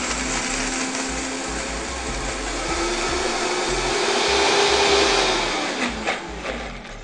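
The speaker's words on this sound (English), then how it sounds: "So I'm going to start with a little bit of water and blend that up and see how that goes." A blender whirs steadily as it purees cashews and water into a thick cream, the motor note rising and shifting slightly as the mixture smooths out, loud and continuous with no talking.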